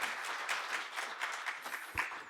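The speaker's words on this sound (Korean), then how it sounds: "큰 박수로 환영해 주시기 바랍니다." Seminar audience at a dental lecture applauding to welcome the speaker, a dense burst of many hands clapping steadily for about two seconds before tapering off.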